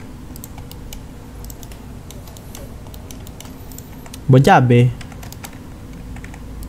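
Soft, rapid computer keyboard typing and mouse clicks tick steadily throughout at close range, briefly interrupted by a short spoken phrase.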